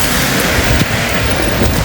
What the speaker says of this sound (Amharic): እየዘነበ ነው ጋይስ።